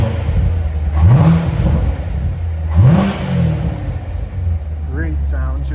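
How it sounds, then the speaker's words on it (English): A 2016 Corvette Stingray coupe's engine with NPP exhaust idles with a deep steady rumble, revved twice in quick rising blips about two seconds apart before settling back, while a person talks nearby. "Great sound to it. Love the NPP exhaust."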